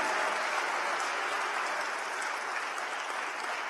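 A church congregation applauds steadily for several seconds, a dense, even wash of clapping with no voices on top.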